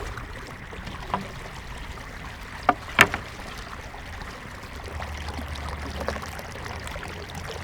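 Irrigation water flows and trickles steadily in the background, with a couple of sharp knocks or splashes partway through and a low rumble later.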